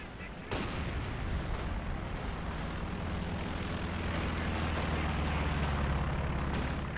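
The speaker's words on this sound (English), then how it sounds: "Do we have one more shot from that Ju-87?" Ju-87 dive bomber strike in Company of Heroes 2, a heavy blast at the start followed by a long low rumbling roar of bombardment and engine drone, with a commentator's voice running underneath.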